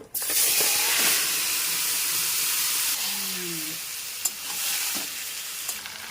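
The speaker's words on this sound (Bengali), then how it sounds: "শুকনো লঙ্কা তেজপাতা ভালো করে ভেজে নেব। মাংসটা ঢেলে দেবো।" Meat fries hard with dried red chillies and bay leaves, a loud, dense sizzle and steamy hiss running throughout. There are occasional knocks and a faint voice in the background.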